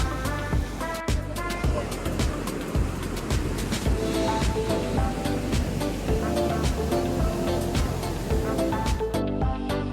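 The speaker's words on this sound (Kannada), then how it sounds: "ಜಸ್ಟ್ ಆ ನೀರು ಹರಿಯೋ ಶಬ್ದ ಕೇಳಿಸ್ಕೊಂಡ್ರೆ" A monsoon stream near Sakleshpur rushes steadily in a continuous broad roar, mixed with background music throughout.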